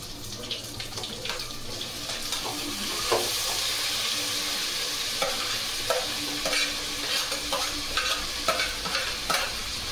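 Rice with tomatoes and ginger paste being stirred in a pan, a steady scraping and light sizzle running the whole time with brief clinks and knocks of the spoon, close and moderately loud, no talking.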